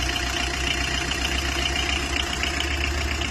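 Tata vehicle engine idling steadily just after a jump start with a replaced battery, a loud continuous mechanical rumble close by with no pauses.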